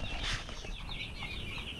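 Chickens on a farm cam cluck softly at a distance, with faint scattered calls and a rustle of wings over steady low background noise.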